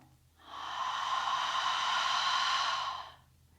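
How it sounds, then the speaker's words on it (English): A slow, steady breath drawn and released as a single soft, airy rush lasting about two and a half seconds, close and quiet with no talking, during a beginner's Ashtanga-inspired yoga flow focused on nose-in, mouth-out breathing. "inhale through the nose and exhale through the mouth"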